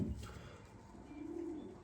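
Young pigeon cooing softly and close by, a single low rolling coo that swells briefly and stays quiet, with no other sounds around it.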